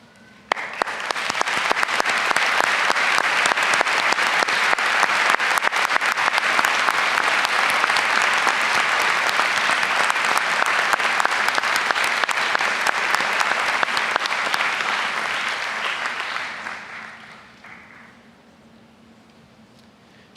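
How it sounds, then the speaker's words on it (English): Loud, sustained applause from a large commencement audience honoring faculty and staff rolls on steadily for about fifteen seconds before tapering off into a quiet room. "resounding applause."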